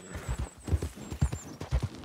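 Horse hooves clip-clop at a steady walking pace in the video game Red Dead Redemption 2, paired low thuds repeating about every half second, fairly close and with no talking.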